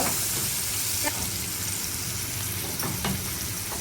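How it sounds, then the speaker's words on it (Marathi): Two bay leaves sautéing with softened tomato and onion in a pan for a home-style paneer veg kurma, giving a steady close sizzle with a few faint stirring scrapes and no talking. "आपण आता त्याच्यामध्ये 2 तेजपत्ते टाकणार आहोत आणि छान असं परतून घ्यायचं आहे अर्धा मिनिट।"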